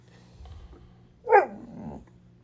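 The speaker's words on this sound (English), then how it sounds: "We got a little puppy in here with us." A little puppy lets out a single sharp bark that trails into a short growl, close by in a quiet room.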